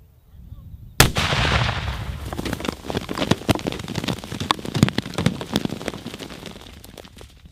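An ANFO charge buried in a pit detonates in one sudden loud blast, followed by several seconds of mud and debris pattering and thudding back down nearby.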